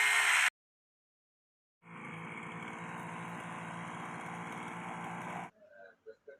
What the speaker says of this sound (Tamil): பெரும்பாலும் தேக்க மரத்தினுடைய பக்கவாட்டு கிளைகளை இந்த மாதிரி கட் பண்ணி வர்றதுக்கு இந்த செயின்ஸாவை அட்டாச் பண்ணிக்கலாங்க